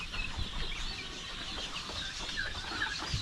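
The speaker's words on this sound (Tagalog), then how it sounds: "may mga manok na nakatayo" Chickens cluck softly and steadily in a pen or coop, the low clucks spread across a faint, even background with no voices.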